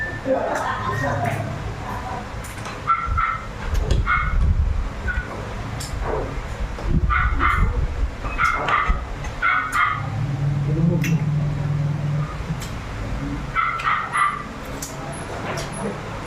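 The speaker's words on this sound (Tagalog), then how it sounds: "Yung aso na yung pitbahay namin." A neighbor's dog barks intermittently in the background, somewhat distant, while a person talks over it throughout.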